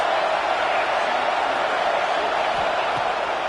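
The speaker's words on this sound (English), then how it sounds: "This crowd trying to make life miserable for this offense." A large football stadium crowd roars at the LSU vs UGA game, a loud, continuous wash of noise with no breaks, surrounding and close.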